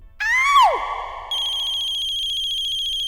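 An electronic phone ringtone sounds loudly: a quick descending chirp, then a sustained, steady ringing tone that continues alone.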